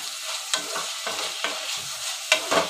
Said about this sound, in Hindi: इसको इधर उधर करके मिक्स कर दूंगी।